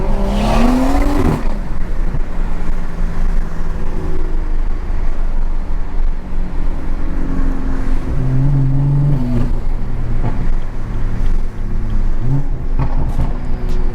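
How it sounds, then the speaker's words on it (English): BMW F30 car accelerating hard from inside, a steady loud engine and road roar with a couple of brief revving swells and some wheelspin. "if I step on it in first gear, it spins a good amount"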